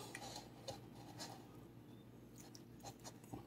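Utensil stirring and mixing ingredients for French onion stuffed shells, soft scraping and clinking against a bowl in irregular taps, quiet and close with no talk.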